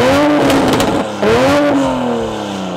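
Toyota Supra with a B58 engine revs hard in bursts, pitch climbing and dropping through several loud, close blips before settling into a rising drone.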